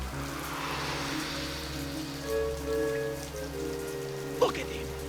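Pouring rain at night in a film scene, a steady hiss of rain on surfaces under low droning tones, with a brief sharp knock near the end.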